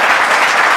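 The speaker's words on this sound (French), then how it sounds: "Je vous demande simplement de vous applaudir public parce que vous êtes merveilleux" Brief burst of studio audience applause, a dense wash of many hands clapping, loud and continuous without talk.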